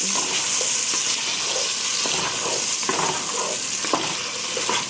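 Chicken ragu mixture fries in a pot while being stirred, giving a loud continuous sizzle with scraping stirs throughout and no voices.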